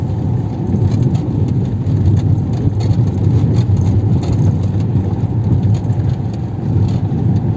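A car travels along a road, heard from inside the cabin. A continuous, loud road roar and engine hum hold steady throughout with no talking.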